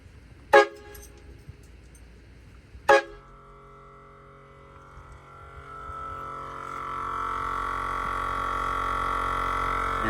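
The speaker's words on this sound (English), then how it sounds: "All right, here's the train horn, the new installed." Newly installed train horn on a Chevy 5500HD truck gives two short, sharp blasts close by. A steady, rising tonal drone then builds and holds to the end.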